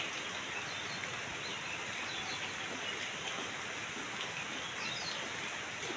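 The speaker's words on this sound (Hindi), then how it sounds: "देखो बारिश होती है, देखो बहुत बारिश होती है" Heavy rain falls steadily in an outdoor rural setting, a dense, even hiss of drops on surfaces that continues unbroken throughout, moderately loud with no voices.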